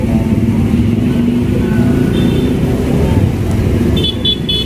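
A Po Haryanto HM148 Abimanyu coach bus idles and pulls away amid busy traffic, a loud low engine rumble with a few short horn toots near the end and faint voices nearby.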